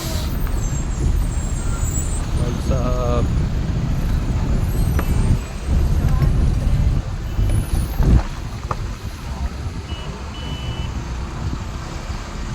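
A loaded truck stands stalled in a traffic jam on the Betul–Indore highway, with a low, rumbling engine drone, air-brake hisses and faint vehicle beeps around it, and a brief spoken phrase.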